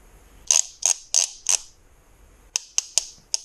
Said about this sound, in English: we're going to take this torque wrench, which should be zeroed out, and we're going to get that up to 180 inch-pounds